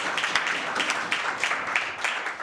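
Steady audience applause for a new debate team at a public sector debate competition in Jamaica, a moderate, even patter of many hands with scattered sharper claps and no talking.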